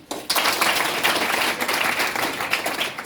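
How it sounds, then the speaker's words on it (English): Students at a boys' school clap together in a brisk, loud burst that starts suddenly and continues evenly, a crowded patter of many hands. "You can sit down, clap for them"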